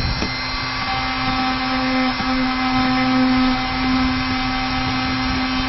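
Dremel rotary tool grinding paint off a model tank, a steady close high-pitched whine with a constant tone, running alone throughout with slight bumps as the tool presses against the bouncing hull.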